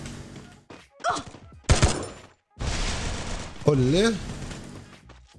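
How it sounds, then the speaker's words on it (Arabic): Rapid bursts of Bizon submachine gun fire in the video game Free Fire, a short volley followed by a longer sustained stream, with someone talking between and over the shots. "ندخل نجرب البيزون سلاح جديد"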